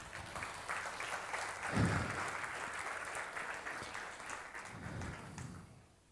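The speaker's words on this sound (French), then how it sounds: "On peut acclamer cette vérité ?" Audience applause at a French-language church sermon, a steady wash of clapping and cheering from a large crowd lasting several seconds, with a louder swell near the start before fading out at the end.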